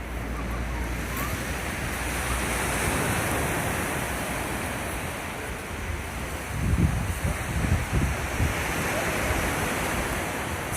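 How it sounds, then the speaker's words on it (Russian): Sea surf washes steadily onto the shore along the Yalta embankment in Crimea, a continuous broadband roar with wind, swelling into a few louder wave surges near the end. "Слышите? Море."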